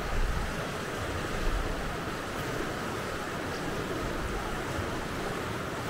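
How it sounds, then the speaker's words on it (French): A swollen mountain torrent in Norway's Rondane, a steady broadband roar of rushing water, constant and moderately loud, heard alone. "Le torrent n'a pas encore dégonflé."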